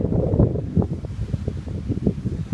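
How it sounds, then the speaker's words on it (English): Gusty wind buffets the microphone in low rumbling bursts, loud and close, rising and falling without pause, in Deià, Mallorca. "it's so very windy"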